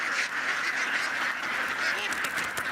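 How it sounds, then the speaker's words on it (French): Thousands of ducks released onto rice fields make a dense, continuous chorus of quacking. The crowd of birds sounds loud and close, with no pause. "Des milliers de palmipèdes qui, dans un joyeux cancanement, s'ébrouent en quelques secondes sur des hectares de rizières."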